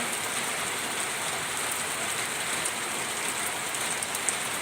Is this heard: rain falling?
yes